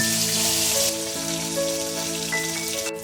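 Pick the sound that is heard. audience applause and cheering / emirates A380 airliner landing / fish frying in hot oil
fish frying in hot oil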